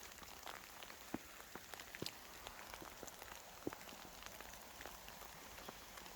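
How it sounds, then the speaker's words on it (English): Hail falls in Thurso, making a quiet, steady patter of small pellets with occasional sharper ticks as stones strike nearby surfaces, with no voices. "We're getting hailed on."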